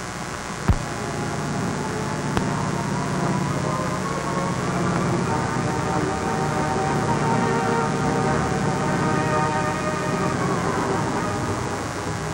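A steady, droning rumble of World War II Japanese bomber engines flying toward Pearl Harbor, with a couple of brief sharp clicks near the start.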